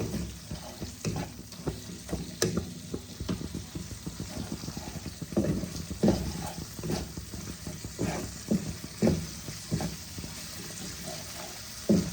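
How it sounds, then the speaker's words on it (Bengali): Spice paste for a Bengali shol fish curry sizzles and crackles steadily in hot oil in a pan, with occasional stirring scrapes and clinks, close and continuous throughout. "দেখো মশলা থেকে আমার তেল ছেড়ে দিয়েছে, ভালোভাবে কষে গেছে"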